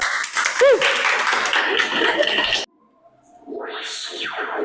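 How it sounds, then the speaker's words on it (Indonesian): A burst of applause from a group in a classroom-style presentation, clapping for a couple of seconds before stopping abruptly, followed by someone speaking. "Tepuk tangan dong."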